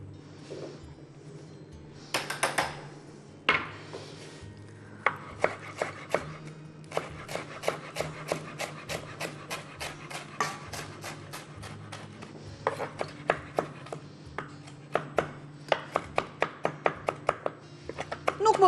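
A knife chops parsley, spring onion stalks and aromatic herbs on a wooden board in a steady run of sharp, close taps, with a few brief pauses between bursts.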